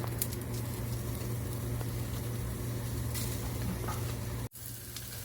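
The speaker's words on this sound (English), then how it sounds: "I've got my sausage here. A little bit of a sizzle." Sausage sizzles steadily in a cast iron pan, a soft, even crackle and hiss running throughout with a faint underlying hum and a momentary dropout near the end.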